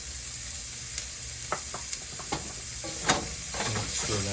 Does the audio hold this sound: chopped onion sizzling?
yes